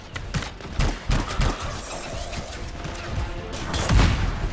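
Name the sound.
gunfire in the video game Anthem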